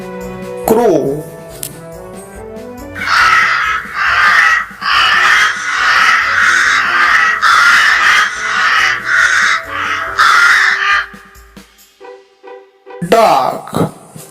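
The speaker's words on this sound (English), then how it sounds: "crow" Crows caw in a rapid, harsh chorus of repeated calls, loud and near, preceded by a few tonal notes and ending with a short burst after a pause.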